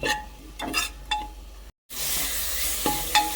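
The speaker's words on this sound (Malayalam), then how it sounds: "തക്കാളി, സവാളയും എല്ലാം കൂടെ നന്നായിട്ട് മിക്സ് ചെയ്യുക" Dal curry with tomato and onion is stirred in a hot pan, a steady sizzle with scraping strokes of a spoon against the metal, broken by a brief silent gap before the frying resumes loudly.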